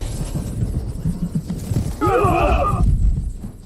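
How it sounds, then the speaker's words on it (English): Spooked horses let out a loud, shaky whinny in a fantasy martial-arts drama battle scene, following a stretch of low rumbling commotion and ambient noise. "The horses are spooked."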